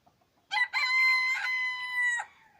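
A Javanese rooster gives one close, clear crow of about two seconds, starting with a short note and then a long ringing call, against a quiet background.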